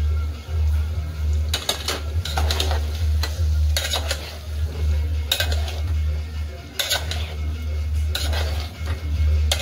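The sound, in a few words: stirring ridge gourd curry in a pan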